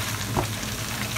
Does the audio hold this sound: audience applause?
no